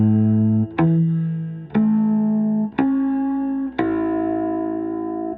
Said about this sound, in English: I need to really push hard on my finger to get clear harmonics.